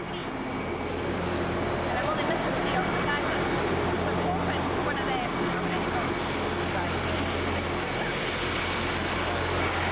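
Broadband rumble of a fully boarded passenger airplane idling while waiting to depart at Edinburgh Airport, with steady engine drone and hum held at a constant level throughout.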